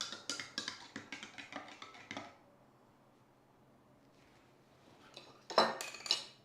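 Juiced chocho being mixed with squeezed lemon juice, a utensil clinking rapidly against a bowl for about two seconds, then a quiet pause and a couple of louder clinks near the end.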